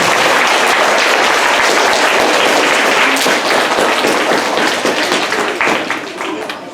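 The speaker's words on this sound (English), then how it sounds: "big round of applause for perfect attendance" Big round of applause for a class with perfect attendance: dense, steady clapping from a group of children and adults, loud throughout and tapering slightly at the end, with some voices mixed in.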